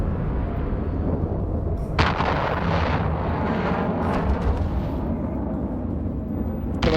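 Spaceship weapons fire in Eve Online, heavy booming bursts with a loud onset near two seconds and a dense rumbling wash continuing, a further burst near four seconds, with no talk.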